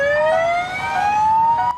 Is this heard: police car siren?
yes